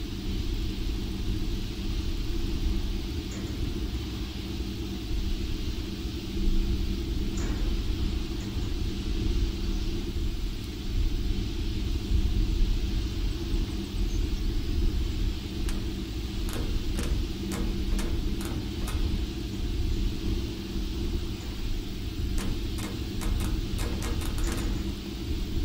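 Steam locomotive rumble recorded at the Disneyland Railroad and used in a train simulator game: a steady, low, continuous rumble, with a run of sharp ticking clicks coming in over the second half.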